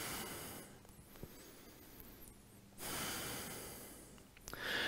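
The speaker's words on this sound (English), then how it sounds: "Let's take a couple breaths here" Deep yoga breaths taken on all fours, one long, soft exhale, a quiet pause, then another audible breath, close to the microphone with no talking.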